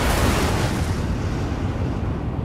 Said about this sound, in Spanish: ¡Oh! Avalancha.